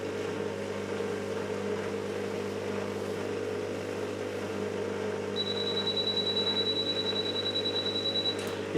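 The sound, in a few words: dishwasher water container alarm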